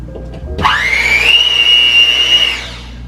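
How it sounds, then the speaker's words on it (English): An electric hand mixer switches on with a rising whine that settles into a steady, loud high-pitched motor drone for about two seconds, then cuts off, close and alone with no talk. "So now I'm gonna pull out my hand mixer that I bought with you guys earlier"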